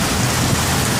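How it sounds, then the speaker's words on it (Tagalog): Heavy typhoon rain pours steadily outside a roadside shop selling all-purpose flour during Typhoon Hana, a dense, unbroken hiss of drops pounding surfaces close by, with no voices. "Yan, lakas ng ulan."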